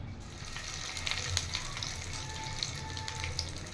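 Oil sizzles steadily in a pan while ground chana dal chutney is tempered, giving a close, continuous frying hiss with small crackles and pops and no talk.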